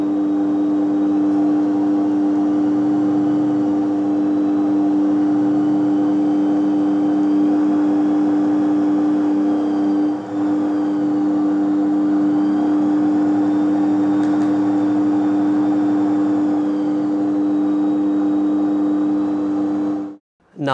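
Generator driven by a car radiator fan motor running under load while lighting a 12-volt, 100-watt bulb, giving a loud, steady electric whir with a strong tonal hum that holds nearly constant before cutting off abruptly at the end.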